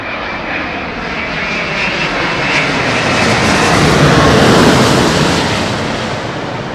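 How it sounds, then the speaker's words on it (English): Jet engines of a Boeing 737 airliner at London Heathrow Airport roar loudly and continuously, the broad rumble swelling toward a peak near the end before easing slightly. "Listen to the engines."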